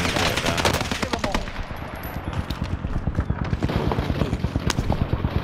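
Rapid automatic gunfire in a shooting video game, loud and sustained bursts of closely spaced shots running through the whole stretch, with no talking.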